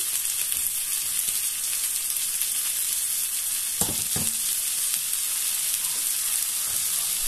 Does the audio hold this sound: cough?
no